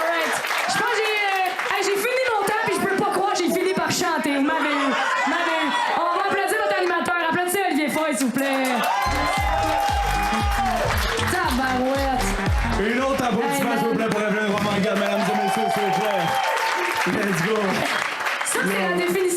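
A comedy show crowd breaks into loud, sustained applause with cheers and whoops, dense clapping filling the room while a performer keeps talking over it and music briefly swells underneath.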